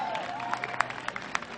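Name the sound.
audience applause at a concert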